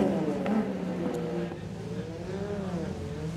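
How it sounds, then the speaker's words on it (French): Race car number 22 at the Grand Prix de Trois-Rivières street circuit, its engine note rising and falling as it accelerates through a wet track section, heard at moderate distance with a steady drone. "Voilà la voiture, le bolide numéro 22 de Marc-Antoine Camira."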